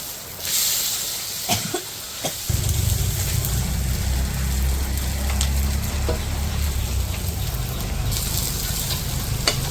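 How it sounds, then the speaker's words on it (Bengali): Small puti fish with onion and green chili frying in oil in a village kitchen, a dense continuous sizzle that swells after a quieter start and holds steady and close throughout. "তো এগুলো শুধু তেলে ভাজা ভাজা করবো চচ্চড়ি"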